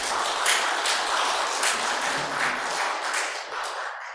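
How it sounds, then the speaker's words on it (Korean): A church congregation applauds, a dense continuous wash of many hands clapping together that holds steady throughout and tapers slightly at the end. "우리 주님께 영광의 박수 올려드립시다."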